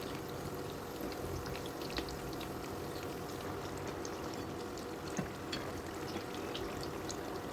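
Samosas deep-fry in oil at night with a soft, continuous bubbling crackle, faint and even, sprinkled with small pops throughout.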